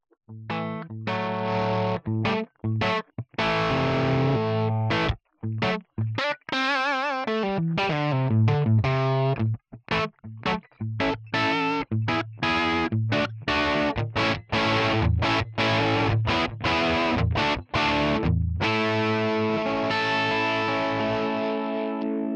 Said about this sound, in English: we start with a Les Paul here right now. It's crunched balance.